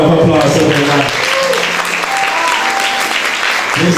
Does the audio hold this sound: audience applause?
yes